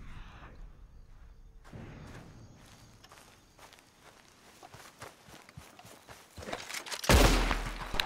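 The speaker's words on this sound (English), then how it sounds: "Gunshots are so loud too." Sharp gunfire bursts from Red Dead Online ring out, the loudest blast landing near the end over busy clatter and footstep-like shuffling.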